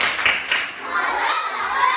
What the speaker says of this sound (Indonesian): Oke, kita berikan tepuk salut